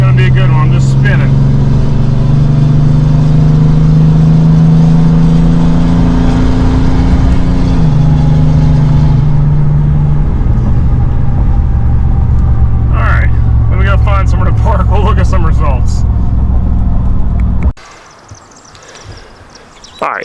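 A 60 hp tuned Cummins diesel truck spins its tires at launch, a loud, close, sustained engine roar and tire rumble lasting most of the clip before cutting off abruptly near the end.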